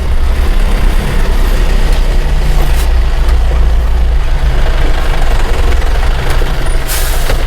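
A car engine drones loudly and steadily in second gear while driving downhill on a narrow road, with a constant heavy rumble and road noise and no break throughout.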